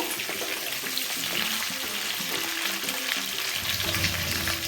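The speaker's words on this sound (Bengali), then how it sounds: "আলু ফুলকপি ভালো করে ভেজে নেব।" Boiled potatoes and cauliflower frying in a pan sizzle with a dense, even hiss and crackle, close and steady, while a spatula stirs and scrapes rhythmically throughout.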